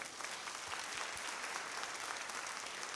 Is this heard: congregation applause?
yes